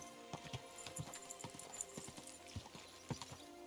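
A horse's hooves clip-clop steadily along a town street in the medieval game Kingdom Come Deliverance 2, crisp regular knocks at walking pace over a faint background drone.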